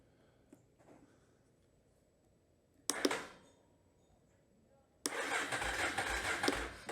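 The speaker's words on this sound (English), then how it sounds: "we know our starter solenoid works" Yamaha Big Bear ATV starter solenoid energised with jumper wires: a sharp click, then a second, louder click that sets the starter motor whirring steadily, close by in a quiet space.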